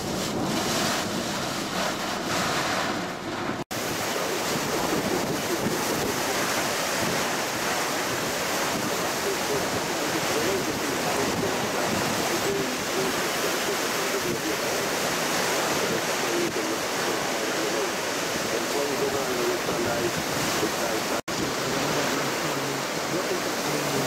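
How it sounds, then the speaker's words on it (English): Roaring wind and pounding surf during Severe Tropical Cyclone Debbie at Airlie Beach, a dense, continuous, loud wash of noise with heavy wind buffeting on the microphone throughout. "We're starting to get a wind change, man."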